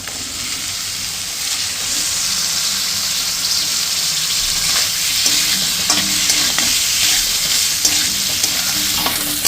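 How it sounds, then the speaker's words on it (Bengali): Poppy seed paste and boiled potato pieces stir-fried in a pan, a continuous sizzle under steady scraping and stirring, with no voices. "আলুটাকে দিয়ে আমি আরও একটু নেড়ে চেড়ে কষিয়ে নেব"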